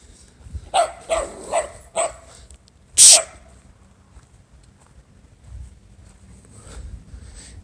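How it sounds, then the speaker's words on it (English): A small dog barks several times in quick, sharp yaps, followed by one louder, piercing yelp, then quieter scuffling in a room. "It's a small little dog. The ones who scream the most."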